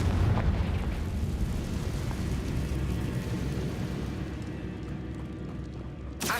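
Fiery Confringo spell explosion in Hogwarts Legacy: a loud, sustained blast with a deep rumbling roar that slowly fades, ending in a short pop.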